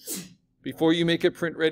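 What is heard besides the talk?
sneeze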